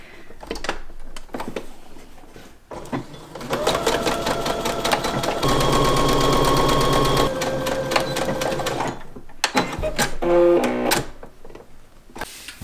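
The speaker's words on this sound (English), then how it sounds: "And now we're going to top stitch." A sewing machine runs close and loud while top stitching a garment. A steady run through the middle is framed by short starts and stops, with a brief mechanical clicking near the end and no speech.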